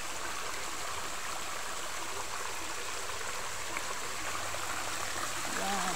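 A small waterfall pours into a shallow creek, a steady full rush of running water that fills the scene without a break and swells a little toward the end.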